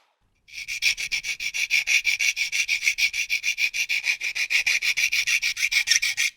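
Scratching and rubbing across a 3D printed plastic mock-up part for an MD-3010 II metal detector, a steady run of fast, even back-and-forth strokes, close and fairly loud, with no voices.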